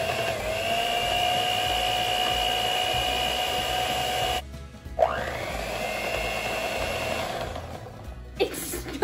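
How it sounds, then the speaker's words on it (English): An electric hand whisk whirring steadily through heavy whipping cream, a sustained motorized drone that stops briefly, then spins back up and runs on before halting again. "Now I will whisk the whipping cream until it gets fluffy."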